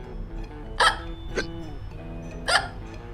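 Three sharp hiccups, voiced as part of a children's picture-book read-aloud about a cat, pop out at irregular intervals over a low steady background hum.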